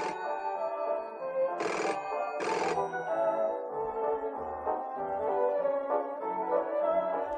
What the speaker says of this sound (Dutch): ging bij de ander de telefoon rinkelen.